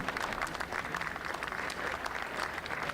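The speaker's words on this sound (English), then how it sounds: "I just want to have a real round of applause for what they did." Audience applause fills a Hall of Fame induction ceremony hall, a steady dense wash of many hands clapping at moderate volume, continuous throughout without speech over it.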